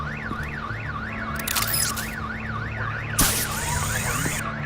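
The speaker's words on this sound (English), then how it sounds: "My bat stunner would set off the car alarm." A car alarm goes off in Batman: The Enemy Within, wailing in a steady up-and-down sweep that repeats over and over, with bursts of other game sounds cutting in over it partway through.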